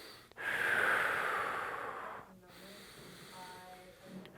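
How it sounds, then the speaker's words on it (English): A person takes a long, deep audible inhale followed by a softer exhale, close and breathy against a quiet room. "take a couple breaths"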